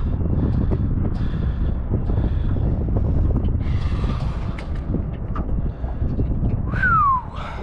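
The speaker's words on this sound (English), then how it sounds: "This wind is blowing at different speeds." Strong wind buffets a fishing boat on the Coosa River, a loud steady roar of gusts against the microphone with occasional creaks and a brief whine near the end.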